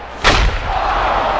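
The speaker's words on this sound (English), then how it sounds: "Swing and booms one high in the air, soaring into straightaway center field" A bat striking a baseball in the video game MLB 2K5, one loud sharp crack followed by a lingering crowd roar.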